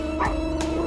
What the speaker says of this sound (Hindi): देखो छोटा सा है लेकिन कैसा भौंकता है ये।